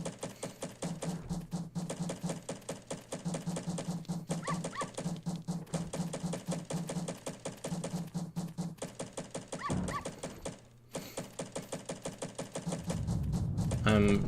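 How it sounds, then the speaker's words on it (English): Dog barks repeat in a fast, regular rhythm in Legend of Zelda: Majora's Mask, a continuous stream of close yaps and whimpers lasting many seconds before a brief pause and a different louder sound at the end. "Bark, bark."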